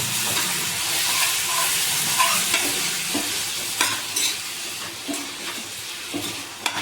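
A spoon stirs cooked gongura (sorrel leaf) curry in a pot, producing a constant near hiss and sizzle with repeated scraping knocks of the spoon against the pot.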